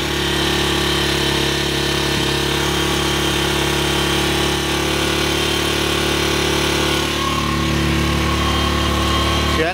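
A Skygo King 150cc motorcycle engine idles close up during carburetor tuning, a loud, continuous buzzing drone that holds steady throughout.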